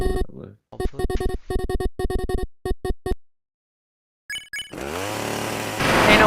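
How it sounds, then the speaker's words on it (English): A video game chainsaw revs in choppy, repeated bursts that cut in and out rhythmically, then goes quiet before a sustained buzzing roar builds and grows louder at the end. "I'm using a chainsaw. How does that make that sound? Chainsaw."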